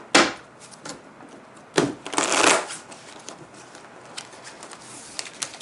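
Laminated homemade playing cards are riffled and shuffled by hand in two crisp, loud bursts followed by softer flicks and taps as the deck settles.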